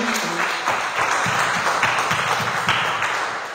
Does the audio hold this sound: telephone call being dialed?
no